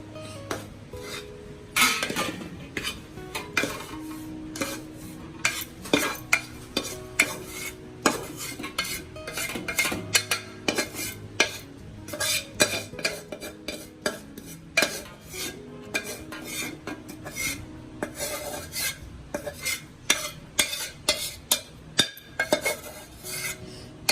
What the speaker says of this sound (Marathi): इथे मम्मीने मस्त पितळीची परात घेतली काढायला